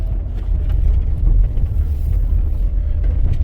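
High-mileage van with a repaired torque converter clutch solenoid driving on a street, a loud steady low engine and road rumble heard from inside, with no distinct gear shift standing out.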